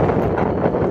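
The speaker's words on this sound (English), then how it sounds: "Oh, the wind is like" Strong gusting wind roars across the microphone at an airport, a dense, loud buffeting rumble that fills the short moment with no other clear sound.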